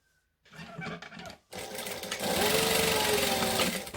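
Sewing machine stitching a saddlebag gusset, a fast steady mechanical whir running close and loud, pausing briefly before starting again and continuing without talk.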